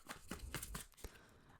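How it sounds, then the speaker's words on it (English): Starseed Oracle cards being shuffled by hand in a few quick, faint riffling bursts, close and quiet, alone. "So I'm just gonna shuffle."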